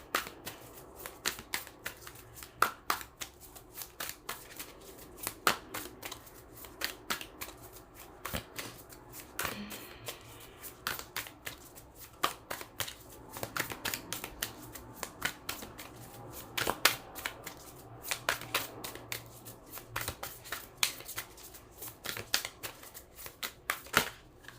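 Oracle cards being shuffled in a tarot-style reading, a steady run of crisp papery riffles and snaps close by, continuing alone without talk.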